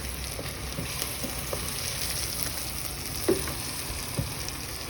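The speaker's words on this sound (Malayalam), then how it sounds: "മല്ലിപ്പൊടി കുറച്ച് അധികം ഇടണേ എന്നാലേ ഒരു ടേസ്റ്റ് ഉണ്ടാവുള്ളൂ ഇനി നമുക്കൊന്ന് ചെറുതായിട്ടൊന്ന് ഇളക്കി കൊടുക്കാൻ" Masala with coriander powder frying in a pan gives a steady low sizzle, with a few soft knocks of a spoon stirring through it; no one speaks.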